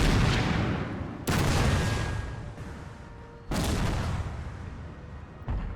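Cannons firing canister shot in Napoleon Total War: three sharp, loud volleys spaced a couple of seconds apart, each followed by a rolling, decaying roar over continuous battlefield din.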